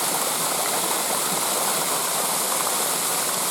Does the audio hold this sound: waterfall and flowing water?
yes